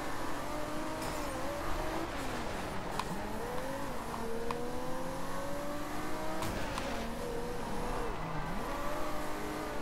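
A race car engine from Forza Horizon 2 on Xbox One revs and shifts continuously at high pitch, the tone climbing and dropping through gear changes, loud and steady for the whole stretch with no talk.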